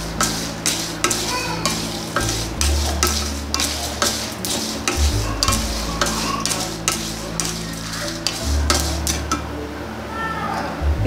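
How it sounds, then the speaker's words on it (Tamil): Sesame seeds crackle and splutter steadily in a hot pan, a dense run of sharp pops and sizzle over a low hum, close and fairly loud. "எள்ளு போட்டு கொஞ்ச நேரத்துலேயே அது பொரிக்க ஆரம்பிச்சிடும்"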